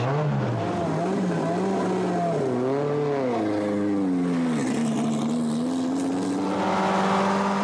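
A Renault 5 Turbo engine roars and revs continuously, its pitch rising and falling as it accelerates and shifts, loud and close throughout.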